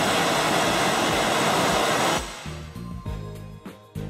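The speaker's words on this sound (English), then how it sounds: "The MLS signals can also be played at a higher level." A Brüel & Kjær Echo speech source emits a loud, broadband MLS test signal as a steady hiss for about two seconds, then cuts to quieter irregular tonal blips.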